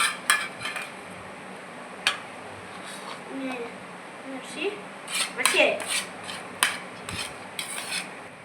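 Rice mixed with Andhra mango pickle in a dish: repeated metallic scrapes and clinks of a spoon against a steel dish, irregular and close, with faint kitchen background and occasional voice.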